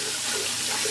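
Hot water runs steadily from a tap while makeup is washed off, a loud, constant close hiss of flowing water with no pauses and no talk.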